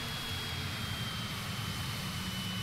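An airplane's engine drones during a landing approach in Microsoft Flight Simulator 2020, a steady, moderately faint hum with a thin high whine, without talk.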